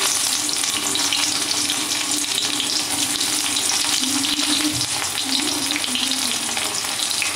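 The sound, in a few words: cumin seeds and chopped onion frying in oil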